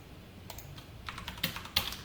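Typing on a computer keyboard, a close run of light, irregular key clicks growing slightly louder over about two seconds, with no talking.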